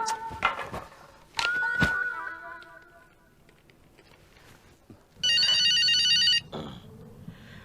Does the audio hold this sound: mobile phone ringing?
yes